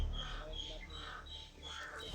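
Several crows cawing in a repeating series of harsh calls, moderately near, over a low steady rumble with a voice speaking.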